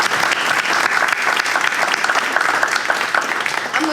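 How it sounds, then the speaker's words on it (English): A crowd applauds panel members and veterans at a university alumni military panel, with dense, steady clapping filling the room at full volume for the whole stretch. "give a round of applause for our panel members today"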